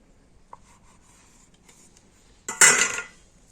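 A knife slices through rolled pitha dough on a board, with faint light scrapes early and then one firm, close cutting stroke lasting about half a second near the end.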